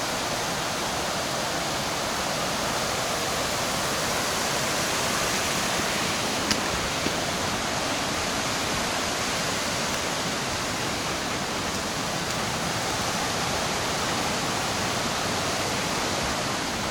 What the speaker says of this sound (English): Get the pretty waterfall in the center